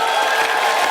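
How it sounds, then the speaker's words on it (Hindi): Applause and cheering from a studio audience on The Kapil Sharma Show, a steady, dense wash of clapping that fills the full moment at even loudness. "जोरदार तालियां हो जाए"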